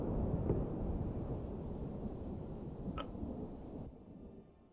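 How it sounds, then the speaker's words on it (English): Steady, loud rain from heavily modded Skyrim fills the scene as a dense, continuous wash, with a few brief sharper ticks on top; no one speaks. "the rain's loud"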